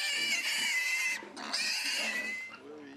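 Pigs on a pig farm in Côte d'Ivoire, raised for sale by weight, with squeals and grunts filling the pen almost continuously and a brief dip midway, fairly loud and close, with no talk.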